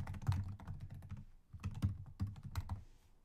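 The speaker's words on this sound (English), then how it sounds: "I'm gonna type out some code and I'll come back and explain it." Code is typed on a computer keyboard in a quiet room: close, soft key clicks in quick irregular bursts with short pauses, and no one speaking.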